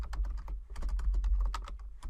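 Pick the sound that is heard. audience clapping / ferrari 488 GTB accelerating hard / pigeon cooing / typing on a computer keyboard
typing on a computer keyboard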